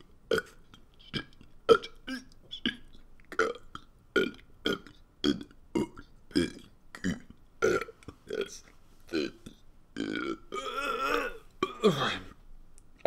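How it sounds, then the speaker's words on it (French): A person burping out the alphabet, a long string of separate voiced belches in steady rhythm, close and clear, each belch shaped into a letter sound. "Tu peux roter en faisant l'alphabet."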